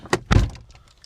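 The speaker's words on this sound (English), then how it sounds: "close the door" A car door on a Cadillac XTS sedan swings shut: a light click followed by a heavier, close-up thud, then quiet with faint rustling.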